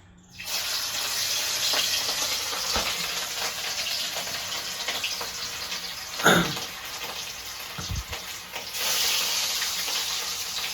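Fish slides into hot oil in a home kitchen and fries with a steady, broad hiss, with a few sharper spits and pops along the way.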